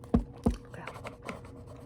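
Pen on paper while someone writes a name, birth date and sex on a form: two distinct close taps followed by softer, brief scratchy strokes, intimate and quiet.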